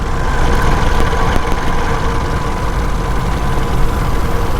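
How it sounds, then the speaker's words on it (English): A paramotor engine is throttled down in flight, giving a steady, close, loud droning rumble mixed with rushing wind noise throughout. "So when I let off the motor, the wing will kind of accelerate and go forward."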